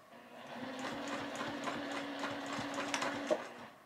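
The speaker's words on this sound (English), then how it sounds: "I am just going to do a few stitches forward and a few stitches back to back stitch" A domestic sewing machine runs steadily as a few stitches are sewn forward and then back to lock a seam before quilting, a continuous close mechanical whir with faint ticking and a small clack near the end.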